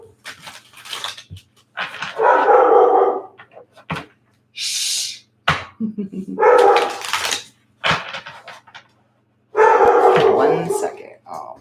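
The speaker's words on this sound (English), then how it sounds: "My dog is barking." A six-month-old puppy barks loudly and repeatedly indoors in short bursts with yips and whimpers, while someone speaks and hushes between the barks.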